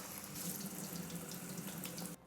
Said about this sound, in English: The golden dragon, I definitely like rinsing the leaves, just to like get rid of those droplets.